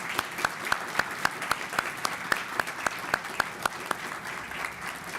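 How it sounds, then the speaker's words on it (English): Steady applause from a commencement audience for award winners, a continuous bed of clapping with a prominent nearby pair of hands striking in an even, regular beat. "receive a round of applause from all of us"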